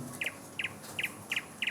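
Small birds chirp in quick paired tweets, five evenly spaced bursts over a faint airy background, fairly close.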